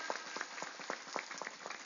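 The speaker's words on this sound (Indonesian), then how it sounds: "Tepuk tangan dulu dong buat warga Muntang." At a religious gathering in Gumelem Kulon, a small audience gives a quick round of applause for the people of Muntang, faint and distant with separate handclaps audible in a loose rhythm.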